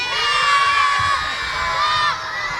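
Children and a crowd cheer and shout together for a young boy at a Cops For Kids With Cancer event, a loud, sustained roar of voices with whoops that dips slightly near the end.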